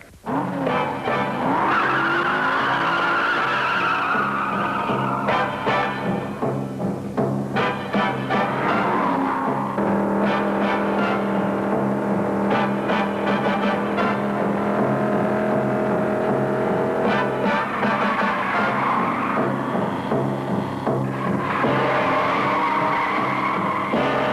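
A 1968 Jaguar XKE 4.2-liter coupe engine roars and revs hard on a track through repeated gear changes, with tires squealing and skidding in the corners, loud and continuous.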